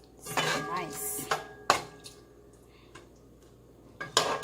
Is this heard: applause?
no